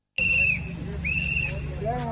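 Sharp shrill whistle blasts from a protester at a political conference, two long piercing tones a moment apart, heard over crowd murmur and chatter.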